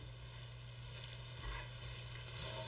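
Cranberries and brown sugar cooking in a pan over high heat give off a steady, faint sizzle and bubbling, continuous throughout with no voices.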